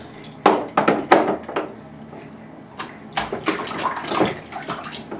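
Water splashes in a bathtub in a run of close, uneven bursts, some hard and some softer, with short quiet gaps between them.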